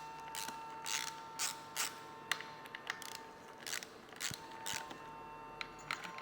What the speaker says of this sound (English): First we need to remove this clamp holding the handlebars.